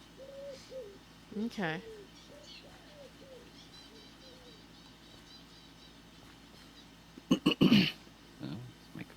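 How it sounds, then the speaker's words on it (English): Pigeon or dove cooing in soft repeated calls, either outdoors or from a video game with air compressor crafting, heard moderately loud with someone speaking briefly and some throat noises. "is that just one of the doves outside cooing real loud?"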